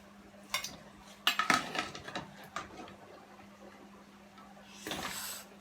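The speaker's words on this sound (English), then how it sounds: "I'm gonna just pull them out and put them over here in my pan" Boiled potatoes being lifted out and dropped into a pan during a seafood boil, several clattering knocks and scrapes of metal utensils against cookware, close and moderately quiet, with no talking.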